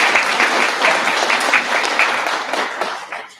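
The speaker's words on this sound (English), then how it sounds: "So if you'd give her a round of applause as a welcome." Applause at a school district board meeting welcomes a student liaison from a high school, a loud, brisk burst of many hands clapping that gradually thins and fades.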